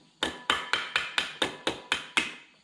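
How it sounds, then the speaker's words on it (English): A small hammer strikes a stuck engine valve nine times during a Honda Prelude B20A5 engine rebuild, a steady, fairly quick rhythm, each sharp ringing clang decaying before the next, close by with no talking. "I had to hammer the valve out with a dinky hammer."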